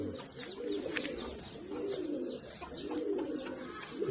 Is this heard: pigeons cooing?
yes